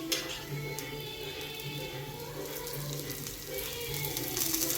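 Jackfruit slices fry in oil in a pan as they are turned to crisp, giving a steady, soft sizzle with faint hiss throughout.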